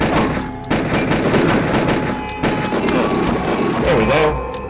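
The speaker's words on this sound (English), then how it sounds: "Shotgun." Heavy weapon fire from a video game shotgun booms in repeated loud blasts over a dense, rumbling backdrop of game noise and sustained close-range firing.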